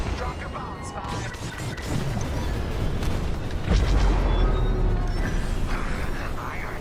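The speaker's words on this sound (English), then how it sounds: "You won't have much time to get out once the core explodes, so be ready to fly fast." Star Wars Squadrons core explosion: a long, dense roaring rumble of blasts and crashing debris that swells to a loud peak midway, with a voice talking over it.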